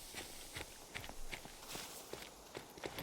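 Quiet footsteps from the hunting game theHunter: Call of the Wild, a series of soft, evenly spaced steps on outdoor ground with nobody talking.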